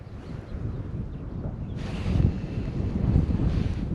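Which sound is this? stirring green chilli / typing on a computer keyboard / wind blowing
wind blowing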